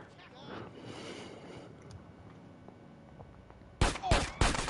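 Gunfire erupts in GTA San Andreas, a tight burst of three loud, sharp shots near the end after a stretch of quiet engine and wind rumble.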